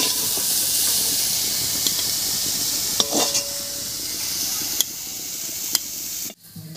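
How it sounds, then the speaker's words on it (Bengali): Bathua greens cook in a pan as the last water dries off, giving a steady, close hiss and sizzle with a few stirring clicks and a short break near the end, with no talk. "বেশ কিছুক্ষণ রান্না করে নিয়েছি, জলটা শুকিয়ে দেখুন নিচে লাগা লাগা মতো হয়ে গেছে।"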